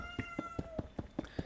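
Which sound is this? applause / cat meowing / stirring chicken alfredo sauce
cat meowing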